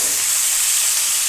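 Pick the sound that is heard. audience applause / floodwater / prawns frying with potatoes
prawns frying with potatoes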